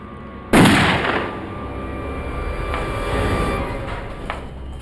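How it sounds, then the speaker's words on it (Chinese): A single loud, close gunshot as a gun accidentally goes off in a film scene, a sharp blast that leaves a rumbling, reverberant tail; no one speaks. "我枪走火了"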